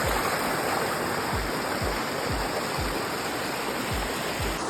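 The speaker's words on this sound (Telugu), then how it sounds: "వాటర్ ఫాల్స్ ఉంది, పెద్దది కాదు," A small waterfall near Hari Hara fort rushes in a steady, close broadband roar, with faint low thumps recurring through it.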